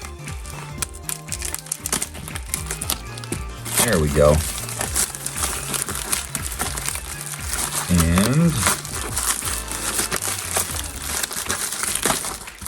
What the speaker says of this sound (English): I got a pair of scissors to open this up.